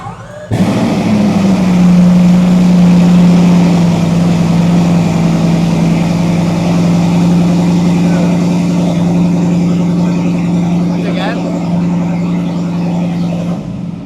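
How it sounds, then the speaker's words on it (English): A Bugatti Bolide track car starts with a sudden loud burst and settles into a deep, heavy, constant idle that stays loud and steady for over ten seconds, close up, with no talk over it. "That is probably one of the loudest idles I've ever heard."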